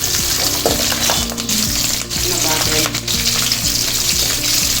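Green chillies stirred and fried in a pan for egg noodles, a loud continuous sizzle with repeated scraping stir strokes, close up and without talk.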